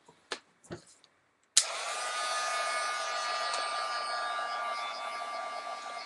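After a few soft taps, a hair dryer switches on abruptly and blows steadily at close range to dry a mixed media craft tag, a constant whirring hiss that holds to the end.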